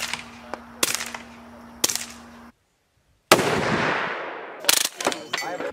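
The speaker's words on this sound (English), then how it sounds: "We're going to be shooting the MP5KN." MP5KN submachine gun fired outdoors in several sharp, loud separate bursts and single cracks, with a silent gap midway and echoing tails after each report.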